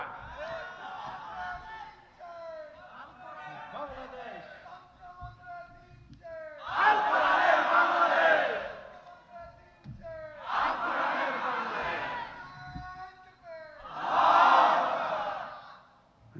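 A large crowd at a Bangladeshi religious rally chants slogans in unison, loud call-and-response bursts swelling and fading in a regular rhythm, with a leading voice between the massed shouts.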